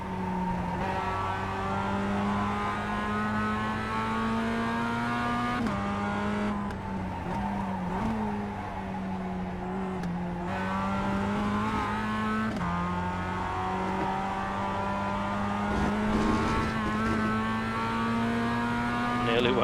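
A Mazda race car engine drones and revs around the Okayama short circuit in iRacing, steady and loud from the cockpit, with gear changes and brief dips as it brakes into corners and accelerates out again.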